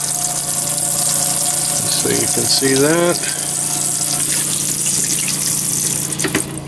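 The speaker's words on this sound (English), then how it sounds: "Pump is operational." Water pump of a 1987 Lesharo motorhome running as a steady mechanical drone with a faucet's water flow, joined by a brief rising squeal midway, while someone talks over it.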